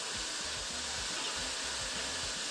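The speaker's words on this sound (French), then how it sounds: "Là, je vais remuer tous mes légumes" Vegetables sizzle in hot oil while being stirred, a loud, steady hiss close by with soft low thumps from the stirring breaking through at intervals.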